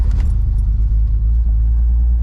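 A twin turbo Nissan 300ZX engine running just after starting up, a loud, steady low rumble at close range with a brief jingle of keys at the start and no talking.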